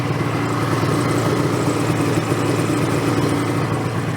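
A 2007 Ski-Doo MXZ Blizzard 800 H.O. snowmobile with its original 800 two-stroke engine and 15,000 km of use runs steadily nearby, a loud, even drone with a low throb and no talk.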